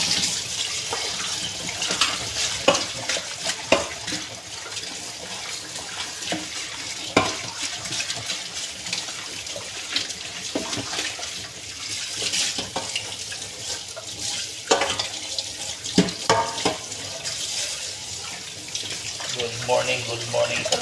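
Tap water running steadily into a sink while coffee utensils are rinsed, with scattered clinks and knocks of the items being handled, close and fairly loud throughout.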